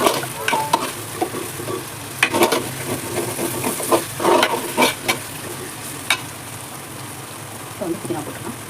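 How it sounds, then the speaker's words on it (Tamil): Onions frying in oil for coconut biryani, stirred until brown: a steady loud sizzle with repeated scraping stirs of a spatula across the pan, close by. "ப்ரௌன் கலராக வரணும் வெங்காயம் வந்து."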